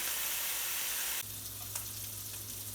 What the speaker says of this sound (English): I'm frying up some bacon right now.